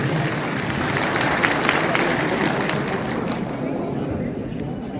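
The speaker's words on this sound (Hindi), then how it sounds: "मौर्य जी का जोरदार तालियों से हम सभी स्वागत करें" Dense, steady applause from a large crowd at a Rashtriya Shoshit Samaj Party rally in Talkatora Stadium, greeting Maurya ji, the newly elected party president; loud and sustained throughout with no pause.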